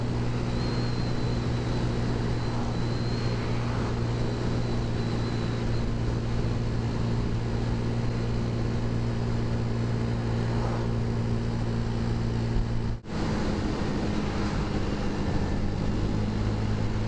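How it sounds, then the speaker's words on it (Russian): Moped scooter engine drones continuously while riding along roads in Krasnodar region, a steady loud hum with wind rush, briefly cutting out for a moment near the end before resuming. "сейчас скутер повеселее поехал"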